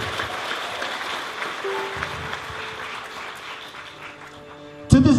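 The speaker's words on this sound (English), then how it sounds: "Can we give that young man a round of applause?" A crowd claps steadily at moderate volume for several seconds, then a sudden loud burst of noise cuts in at the end.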